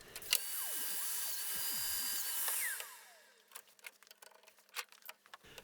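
A domino joiner cuts mortises into a wooden face frame, a high whining motor burst lasting a couple of seconds that spins down, followed by light clicks and handling taps.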